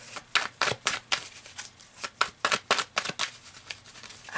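Rapid riffling of a deck of tarot cards, a quick series of crisp shuffling bursts, close and clear with no talking.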